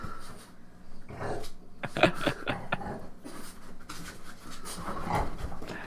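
A pet dog growls, pants and whimpers in short uneven bursts while jumping onto a chair, fairly close and moderately loud, with no talking.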